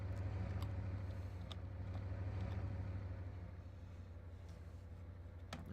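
A diesel locomotive in the Minecraft Immersive Railroading mod rumbles steadily as its throttle rises, a low continuous engine drone with faint clicks, heard alone without speech.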